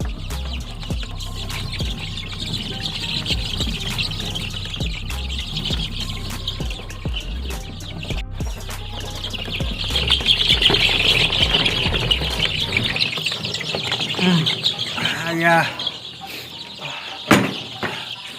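A crowd of growing chicks in a poultry shed squawk and cluck nonstop at close range, a dense and fairly loud chorus with no talking.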